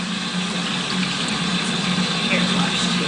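Water running from a faucet during a hair wash in a video game, a continuous hissing gush at steady volume with a faint hum beneath and a voice faintly present.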